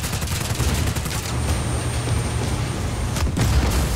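Sustained, dense gunfire and booming blasts as a generator is shot up in the open-world action game Just Cause 4, loud and continuous throughout with no talking.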